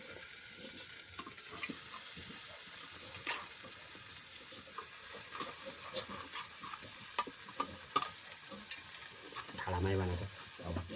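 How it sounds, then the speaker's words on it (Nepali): Organic goat meat sizzling and frying in a pan while being stirred, with steady crackle and scraping stirs, a close and continuous sound. "अब मासु हाल्दैछु है।"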